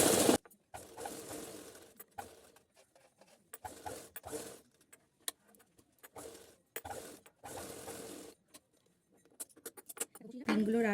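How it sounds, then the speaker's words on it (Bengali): A sewing machine stitches a pinned U-shaped piece of fabric in intermittent bursts of rapid mechanical clatter, with someone talking between the runs. "এরপরে দিয়ে মেশিন চালিয়ে দেখাচ্ছি।"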